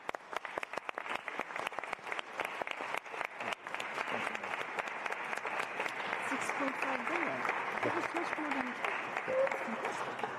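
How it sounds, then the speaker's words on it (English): Sustained audience applause at a conference on aid for Ukraine, dense clapping from a large crowd that continues steadily for about ten seconds with no speech over it. "celebrate all Ukrainian heroes, in particular all Ukrainian heroes, with a round of applause."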